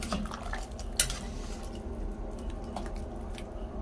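Utensil scraping and clinking in a pan while food is stirred, with soft squishy sizzling underneath and a couple of sharper metal taps.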